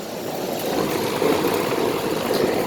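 A 2007 Nordyne 5-ton central air conditioner with a rotary compressor runs outdoors, a steady loud fan roar and broadband rushing of air close by, with no talking.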